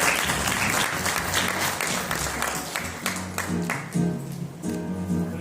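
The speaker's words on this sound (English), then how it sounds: "he really deserves a big round of applause" Audience applause at a school prize ceremony, a steady wash of clapping that holds fairly loud throughout, with musical tones running under it and a voice briefly audible.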